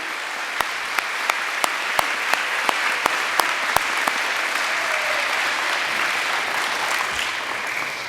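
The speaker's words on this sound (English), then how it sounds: "One more round of applause, if you will, for Captain Woolley." Applause fills a school gym during a Military Appreciation Day assembly, a broad steady roar of many hands clapping, with a few sharper, louder claps standing out near the start. No one speaks over it.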